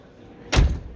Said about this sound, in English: you might want to close the door